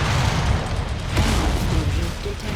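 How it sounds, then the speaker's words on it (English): Ammo detonates inside a battle mech in MechWarrior 5: Mercenaries, a rough, rumbling burst of explosive noise that rolls on without a sharp single peak. "Ammo explosion."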